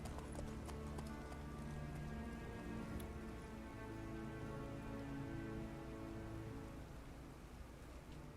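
Steady rain falls while horse hooves clip-clop at a walking pace in The Witcher 3 video game, a dense, constant wash of downpour with rhythmic hoofbeats and a faint background hum, no speech.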